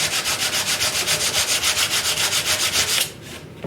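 Steady back-and-forth scraping of sandpaper on wood, fast and rhythmic, close up, stopping abruptly near the end.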